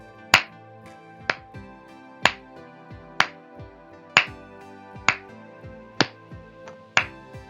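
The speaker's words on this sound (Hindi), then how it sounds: "अब आप अपने दोनों हाथों की मदद से 8 ताली बजाएं।" Two hands clapping eight times in an even, steady rhythm, each clap sharp and close with a short ringing decay over a musical background, no talking.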